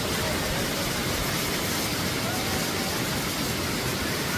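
A tall waterfall roars as a steady, dense wash of broadband noise, loud and unbroken throughout with no distinct pauses.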